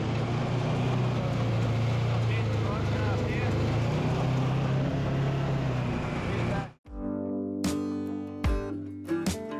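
An amphibian jet boat runs steadily through shallow water in New Zealand, its loud engine and water rush constant until a sudden cutoff near the end, followed by quieter idling with a few knocks and clicks.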